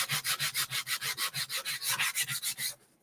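Wood on a farmhouse craft piece is sanded by hand in fast, even back-and-forth rubbing strokes, close and loud, roughly seven per second, stopping abruptly near the end.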